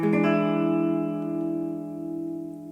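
A single electric guitar C dominant seventh chord is struck and left to ring, sustaining clearly and slowly fading with a touch of effects.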